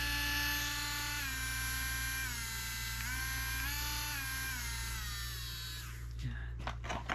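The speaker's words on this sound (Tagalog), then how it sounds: "ito yung rotary tool, yung mini grinder set. Yan. Ito yung cordless." A cordless rotary tool, a mini grinder, whines at a high steady pitch, close and loud, with the motor speed wavering slightly before it winds down and stops near the end.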